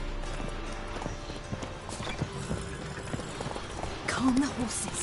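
Horses shift and stamp in a stable in The Witcher 3 video game, with soft hoof clops and a brief whinny near the end beneath quiet game ambience.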